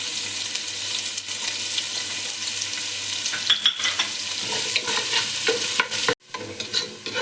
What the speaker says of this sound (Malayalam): സെയിം ഓയിലിലേക്ക് നമുക്ക് കുറച്ച് ഒനിയോൻ ഒന്ന് ഫ്രൈ ചെയ്തെടുക്കണേ.